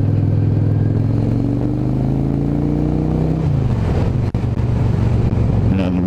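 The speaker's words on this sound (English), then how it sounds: "As you can see, the cars are flying past" Cars rushing past on a road in Turkey, heard from a motorbike during a morning ride: a loud engine drone with a falling pitch as a vehicle sweeps by, then more steady traffic rumble and a sharp click.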